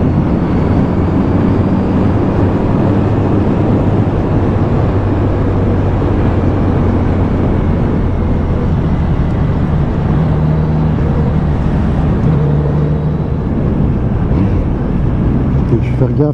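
A Kawasaki Z900RS motorcycle ridden gently at a relaxed pace, its steady engine drone mixed with heavy wind rush throughout, while a rider talks over it.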